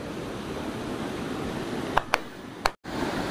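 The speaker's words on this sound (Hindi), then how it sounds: "और ये पानी का बहाव देखिए कितना है" Constant broadband roar of water rushing below Pardhan Dam near Jamshedpur, loud and steady, broken by a few sharp clicks and a momentary dropout near the end.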